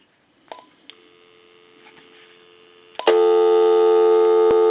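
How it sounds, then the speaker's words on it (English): A Verizon E 9020 cordless telephone gives a few short beeps and tones, then a loud, steady dial tone comes on and holds to the end. "So we'll go ahead and give you some dial tone."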